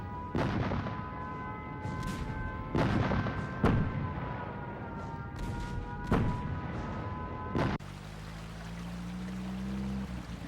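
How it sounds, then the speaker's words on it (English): Bombs falling and exploding near a wartime hiding place give a string of heavy booms and blasts, several close together, over a rumbling background that cuts to a quieter low drone. "The bombs don't fall too far from here."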